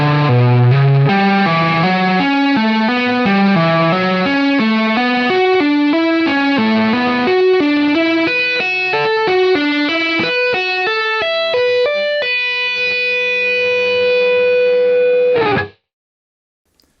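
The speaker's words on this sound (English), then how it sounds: "this lick does sound super cool when you add heaps and heaps of distortion on it" Distorted electric guitar lick played at a slowed pace, a run of bright sustained notes with a heavy effects tone, loud and alone, ending abruptly after about fifteen seconds.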